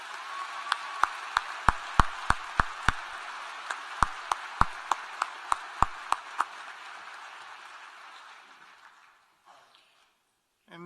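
At a graduation ceremony, the audience applauds the faculty with scattered, uneven claps that start sharp and close, then thin out and fade over several seconds.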